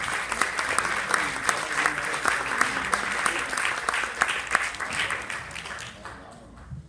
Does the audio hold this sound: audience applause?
yes